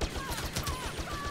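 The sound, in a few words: turret firing in video game Star Wars Battlefront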